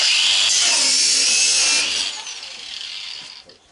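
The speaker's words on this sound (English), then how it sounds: "Angle grinder." An angle grinder cuts through a nut on a gas cook stove, a loud, harsh, high-pitched grinding whine for about two seconds that then drops to a softer, lower level before fading out.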